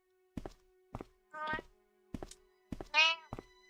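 A cat meows twice, short tonal cries, between sharp thunks and taps like footsteps in a point-and-click adventure game, with no talking.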